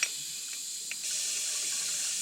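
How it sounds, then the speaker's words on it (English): Water or coolant streaming into the cooling system of a BMW F21 114i during an M135i xDrive conversion, a steady close hiss of flowing liquid that thickens and gets louder about halfway through, with no talking. "Now there should be enough water flow for, well, water to flow constantly."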